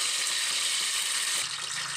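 Mustard seeds spluttering in hot oil in a pan while cooking a traditional one-pot rice and field bean upma, a dense steady crackling sizzle throughout, close and loud, with a lower bubbling layer entering near the end.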